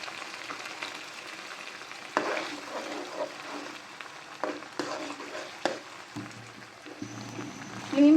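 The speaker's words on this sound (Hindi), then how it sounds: "और अच्छे से फ्राई करेंगे" Onion paste and ginger garlic paste fry in oil with a soft, low sizzle, broken by a few sharp stirring scrapes against the pan, fairly quiet and without talk.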